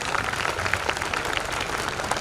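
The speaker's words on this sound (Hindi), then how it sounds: "तालियों से इस्तकबाल कीजिए" An audience applauding to welcome a guest at a college lab inauguration, a brief dense patter of many hands clapping at steady volume throughout.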